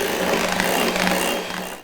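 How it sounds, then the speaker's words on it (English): Cheesecake batter being scraped and mixed in a bowl for chocolate candy cane cheesecakes, a steady continuous scraping and stirring texture at close range, without pause until it trails off at the end. "I'll give it one more scrape and a final mix"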